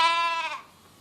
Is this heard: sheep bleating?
yes